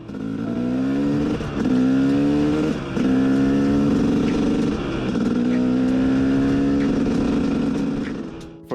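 A two-stroke dirt bike being broken in runs up through the gears at quarter throttle, its engine pitch climbing repeatedly with brief dips at each shift, loud and close, no voices.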